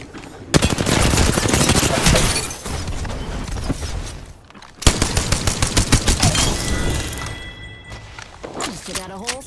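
Rapid automatic gunfire from a shooter video game as a whole squad is taken out: loud, sustained bursts start sharply, pause briefly midway, then resume as a rhythmic string of close shots, with a voice talking faintly underneath.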